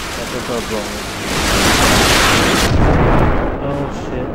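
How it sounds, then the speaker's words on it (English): Heavy booming explosions in Call of Duty: Finest Hour, a loud rumbling blast swelling in the middle and fading, with broad noisy roar throughout. "Explosions right next to me."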